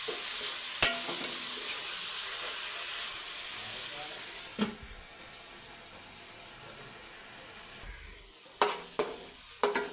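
Tomatoes frying in a pan with onion for a fish curry, heard as a moderate sizzling hiss that fades midway, then a few sharp utensil clinks and scrapes near the end.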